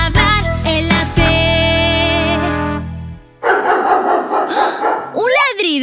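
Bright sung music from a children's song cuts off, and a dog's bark follows as a short, loud, noisy burst. A voice may be imitating the bark.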